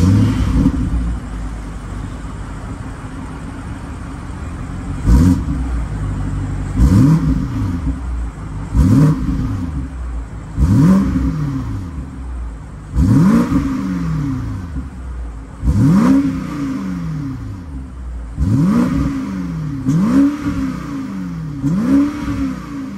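A 2023 BMW X6 M50i's 4.4-liter twin-turbo V8 blips its throttle about nine times in a steady rhythm, each sharp rev swelling and falling back to a deep, rumbling idle, close by.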